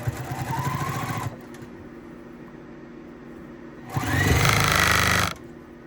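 A home sewing machine back-stitches at a quilt binding corner in two short motor bursts, the second louder and longer, separated by a few seconds of quiet. It is close and stands alone.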